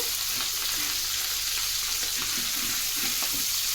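Kebab pieces fry in oil in a pan with a dense, continuous close sizzle and bubbling crackle. The sound is steady and fairly loud, with no talk.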